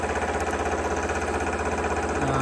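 A metal lathe cutting aluminium at about 1,000 rpm with a 0.5 mm cut and slow feed: a steady mechanical drone with a constant low hum and broadband whirr, continuous and fairly loud.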